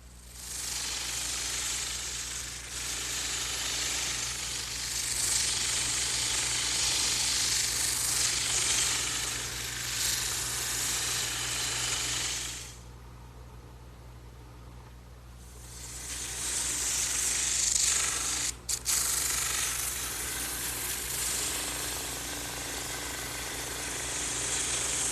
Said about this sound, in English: now I'm ready to smooth out the ends on the drum sander